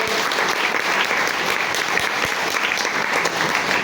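Steady, dense applause from a crowd at a marketing seminar fills the whole stretch at a constant loud level, with no voices rising above it.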